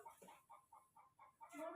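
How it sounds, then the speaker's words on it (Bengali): A hen clucks in a quick, rhythmic series of short notes around a rural village home. The calls are faint and fairly close, with no talking. "মুরগি তো অত ডাকছে কেন"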